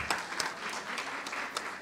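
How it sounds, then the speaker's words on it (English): Steady applause from a crowd, many hands clapping together in a dense, even patter for a couple of seconds. "I think they deserve another round of applause."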